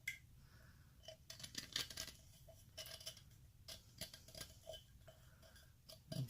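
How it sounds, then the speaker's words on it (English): An X-Acto knife scrapes around the rim of a stainless steel tumbler, giving faint, repeated scratchy ticks and short scraping strokes in an uneven rhythm, heard close and quiet. "doing one good scrape with the X-Acto knife. So I just go around the edge."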